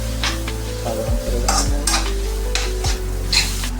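Spices being stirred in a hot pan for an Indian-style egg roast: a loud, continuous sizzle with scraping spoon strokes against the metal at irregular intervals, close up and without speech.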